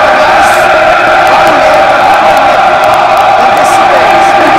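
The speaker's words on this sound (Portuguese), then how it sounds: "É um estádio de futebol virtual, com som de torcida" Recorded football stadium crowd noise plays back as a loud, unbroken roar of massed cheering and shouting, thick and steady throughout.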